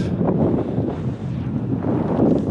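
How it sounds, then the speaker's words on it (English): Strong wind along Loch Lomond buffets the microphone in a continuous low roar, loud and gusty throughout with no voices. "Sorry, I know it's very windy."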